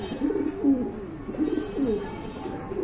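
Pigeons for sale coo in repeated soft, low rolling phrases, close and steady, with no talk over them.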